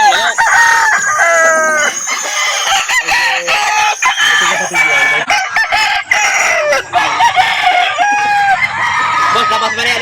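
Several roosters crow loudly and repeatedly close by at a chicken market in Calauan, overlapping one another, with clucking in between.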